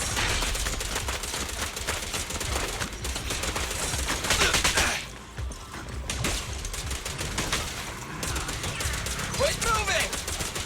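Rapid gunfire in the video game Zenless Zone Zero: dense, sustained bursts of shots and fusillades across the whole stretch, loud and close, with a brief lull midway and mechanical clatter mixed in.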